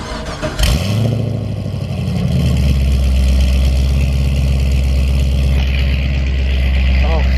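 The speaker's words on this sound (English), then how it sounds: "I love the V8. And this exhaust from the C6 is amazing." A C6 Corvette drift car's V8 engine cranks and fires up with a sharp burst, then settles into a loud, deep, rumbling exhaust idle close by, with someone talking over it.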